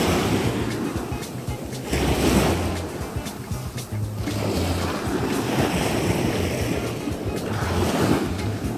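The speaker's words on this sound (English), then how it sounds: "enjoy the sound of the waves" Waves surge and wash onto a Caribbean beach at Dover Beach, loud and close, with a rolling roar that swells every few seconds under heavy wind buffeting the microphone.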